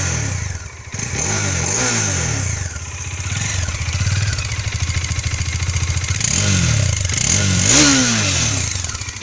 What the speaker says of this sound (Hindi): अब मैं अब इस बाइक का आपको आवाज़ सुनाता हूँ